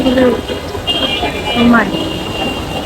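Steady heavy rain hisses loudly and continuously, with faint voices briefly audible beneath the downpour.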